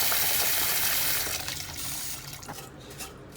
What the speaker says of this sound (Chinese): 我们放点热水，用热水更好洗一些哈